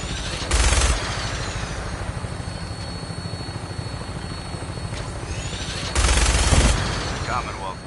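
Heavy gunfire from a flying vertibird in Fallout 4 comes in two loud bursts over the steady thrum of rotors and engine, with a voice speaking between them.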